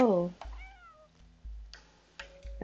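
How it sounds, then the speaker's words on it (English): Cat meowing in the video game Stray: a few short, clear meows near the start, followed by soft game sounds and low rhythmic thumps, with no voices. "that gives you hints when you meow"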